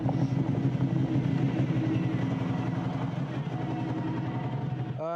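A Ford rally car with its gearbox stuck in fourth gear, the engine droning at a steady, unchanging pitch with a rough, continuous hum and no gear changes.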